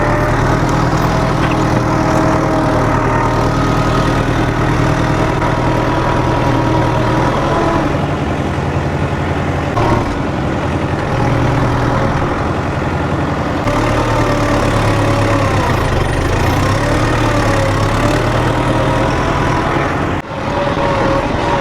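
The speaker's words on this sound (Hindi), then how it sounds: "ये जी ट्रैक्टर स्टार्ट हो गया अपना।" A freshly started tractor engine idles loud and close, a constant heavy rumble with a steady throb that continues unchanged for over twenty seconds.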